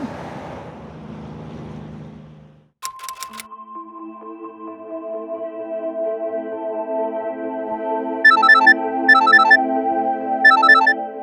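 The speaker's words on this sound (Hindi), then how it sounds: "अरे बार बार कितनी बार फोन करेगा यार।" A mobile phone ringtone plays loudly after a brief burst of rough background noise: a sustained electronic melody of layered tones with short, bright repeating chirps near the end, and no talking over it.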